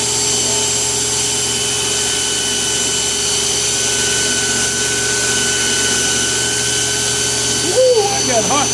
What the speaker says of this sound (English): this is the way I do it when I have to grind the cutting edge